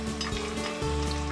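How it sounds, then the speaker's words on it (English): Sunny side up egg frying in oil in a non-stick pan, a dense, close, continuous bubbling sizzle heard alone without talk. "So cook a little bit of the egg white on top too. So you can see, nice and bubbly."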